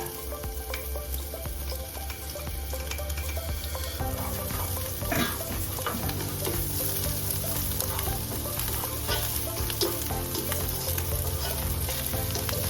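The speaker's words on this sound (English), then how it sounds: "A little bit of oil in your hot pan. Add the garlic and the ginger together." Garlic and ginger frying in oil in a hot pan for lamb stew, a loud, continuous, dense sizzle with crackling and occasional stirring scrapes, close and steady throughout.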